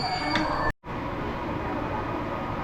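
An Intercity Noteć train hauled by an EU160 locomotive runs through Warszawa Zachodnia station with a loud, steady rolling rumble that briefly cuts out early on, then continues evenly.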